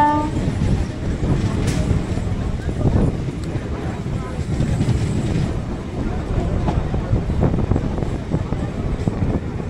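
A Sealdah–Canning local train runs with a steady rolling rumble and rattle of the carriages, a brief horn sounding at the very start, and faint voices blending into the constant noise.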